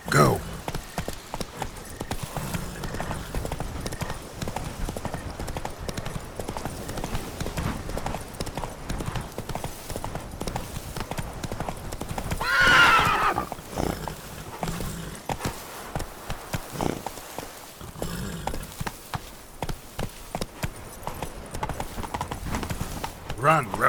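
A horse gallops in the video game The Witcher 3, its rapid, steady clip-clop hoofbeats running throughout, mixed with game sounds and talk.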